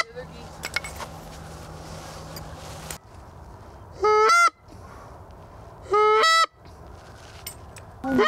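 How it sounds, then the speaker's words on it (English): Geese honk overhead in flight during a goose hunt in New Jersey: two loud, clear bursts of repeated honks, separated by a quieter stretch of outdoor background noise. "They're geese."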